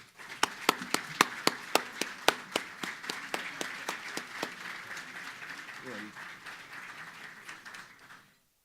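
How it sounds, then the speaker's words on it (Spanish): A conference audience applauds its speakers at a financial inclusion event, with a few loud, distinct claps at first that thicken into sparse, rhythmic clapping before fading out. "los recibimos con un fuerte aplauso"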